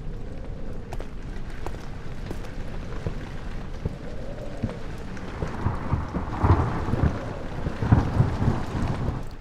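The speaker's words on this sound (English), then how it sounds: "Why that thunder sound like footsteps?" Deep rumbling thunder rolls steadily in the horror game Amnesia: The Dark Descent, with heavy low booms building louder toward the end, almost like thudding footsteps.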